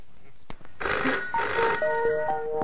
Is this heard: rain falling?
no